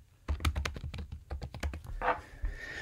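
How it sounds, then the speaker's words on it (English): Computer keyboard keys tapped out in a quick, uneven run of close, distinct clicks while an email address is typed, with a brief softer rustle near the end. "So you just type in their email address."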